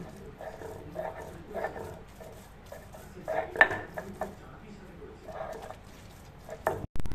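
Boiled jackfruit seeds ground into a paste, likely on a stone grinder, heard as a series of rough rhythmic grinding and scraping strokes in bursts, with clattering at the end and no talking.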